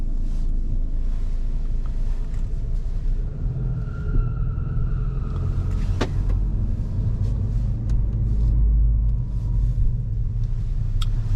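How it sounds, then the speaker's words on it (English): A Peugeot with a 1.5 liter 130 hp BlueHDi diesel engine and an 8-speed automatic transmission drives on the road at night, heard from inside the cabin as a steady low engine drone and road rumble. "We have the 8-speed automatic transmission. I'll put it to drive,"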